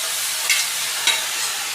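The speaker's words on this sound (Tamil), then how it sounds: "அப்படியே சும்மா ஒரு நிமிஷம் கிண்டினாலே போதும், நல்லா வெந்துடும்." Grated beetroot with chana dal is stirred in a frying pan over a soft, steady sizzle, with two quick scrapes of the spoon.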